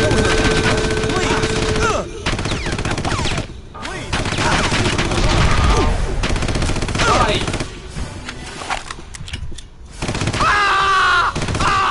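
A submachine gun fires in the Red Faction video game, loud bursts of rapid automatic fire broken by short pauses, with other game noises in the mix.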